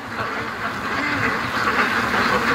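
A huge flock of some 650 ducks at a lake quacks in a dense, continuous din, many overlapping calls blending into a loud steady chorus.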